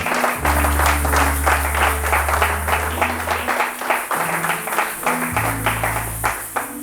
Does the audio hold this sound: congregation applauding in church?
yes